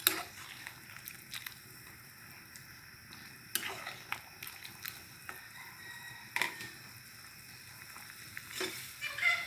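Chicken curry with glass noodles frying and being stirred in a pan, with steady sizzling and scattered scraping clicks from the utensil, heard up close with no talking.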